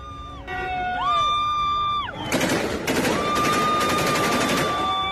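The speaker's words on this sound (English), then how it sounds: "Crowds gathered along to streets and cheered as the Wagner soldiers shot their guns in the air." Gunfire crackles in a dense burst from Wagner soldiers shooting into the air in a Rostov-on-Don street, set against a cheering, whooping crowd and a high ringing tone, after a quieter opening with sustained tones.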